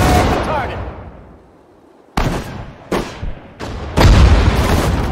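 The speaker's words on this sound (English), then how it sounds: "Fire at the target!" Tank cannon fire in the video game Battle of Sedan: a heavy boom that fades into a long rumbling decay, followed by three more sharp, loud blasts in quick succession.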